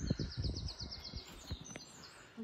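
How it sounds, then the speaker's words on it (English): Crows calling at 6:30 in the early morning in Somerset, a quick run of repeated harsh calls over low rumbling background noise, followed by a couple of fainter calls. "There's the crows."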